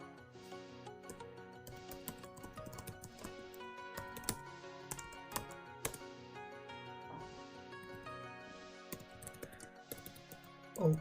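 An email address and password being typed on a computer keyboard, a quiet, close, steady patter of keystrokes with occasional louder key hits and no talking.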